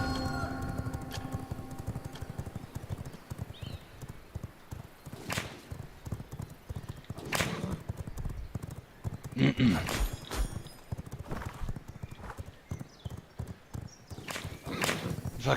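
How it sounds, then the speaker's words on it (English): Horse hooves clip-clop in a steady galloping rhythm in the video game Satisfactory, fairly close and continuous, with people talking over the hoofbeats and a brief whinny-like sound midway. "We've got our horses now."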